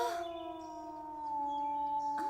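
A wolf howls in a long, steady, sustained tone that rises slightly near the end, with a sharper sound cutting in at the very close; no talking.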